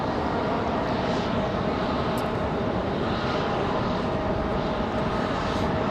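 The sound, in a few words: Republic Airways jet departing Raleigh Durham airport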